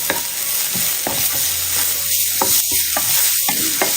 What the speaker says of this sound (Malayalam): ഈ ഒരു സമയം ഇതിലേക്ക് ഒരു മീഡിയം സൈസ് ക്യാരറ്റ് ചെറുതായിട്ട് കട്ട് ചെയ്ത് ചേർക്കാം